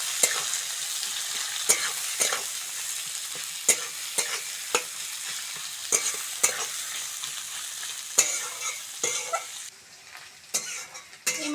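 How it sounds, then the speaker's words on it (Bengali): Chopped onions sizzle and crackle steadily in hot oil in a village-style kitchen, with sharp stirring scrapes every second or so over the continuous frying hiss, close and moderately loud, no voices. "ওই তেলের মধ্যে পেঁয়াজ কুচিটা দিয়ে দেবো।"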